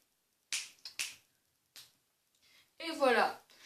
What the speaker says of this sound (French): la technique que j'ai appris à Jelly, c'est le claquement de doigts